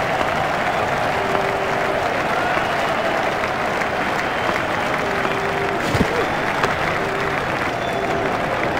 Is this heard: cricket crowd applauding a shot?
yes